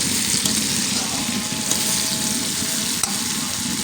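Spice paste for chicken curry with papaya and potato fries in bubbling oil, making a loud, steady sizzle with a few sharp clicks from stirring, and no voices.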